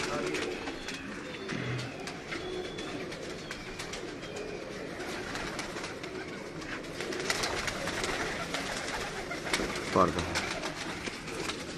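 Soft pigeon coos sound now and then over a quiet background on a rooftop, with a brief fluttering or rustle near the end.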